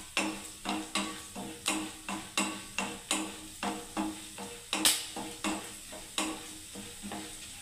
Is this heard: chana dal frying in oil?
yes